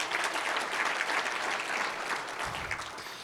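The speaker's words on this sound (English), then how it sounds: "Let's have another round of applause for Don Everett of Runza." Sustained applause from an audience, dense steady clapping throughout, fairly loud and continuous.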